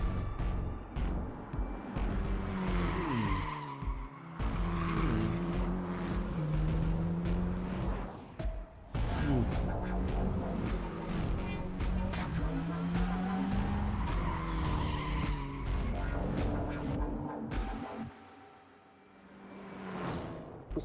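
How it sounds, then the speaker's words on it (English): Cars in the Cyberpunk 2077 video game revving, accelerating and skidding with repeated loud tire squeals, engine roars rising and falling across the stretch, with a brief lull near the end. "Our teams went to incredible lengths to recreate and capture the sounds that really bring these vehicles to life."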